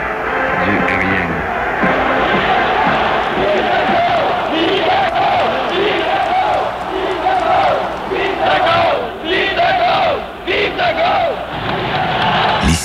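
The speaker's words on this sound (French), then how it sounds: "la foule donc s'est mise à huer l'hymne national" Large outdoor crowd booing and jeering during a national anthem, a loud sustained roar of voices with shouts rising and falling throughout.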